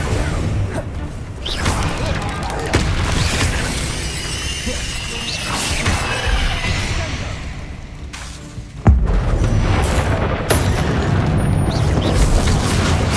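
Confringo blasting spells in Hogwarts Legacy burst repeatedly, loud booms and crashing shatters with whooshing noise, a dense continuous barrage ending in a strong hit near the end.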